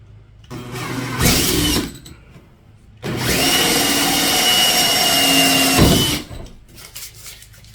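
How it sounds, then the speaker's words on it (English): A power drill runs loud and close in two bursts, a short one and then a long steady whine lasting about three seconds, with quiet between, drilling a main hole on a Brooklyn PK13 boat. "now I'm gonna drill my first main hole"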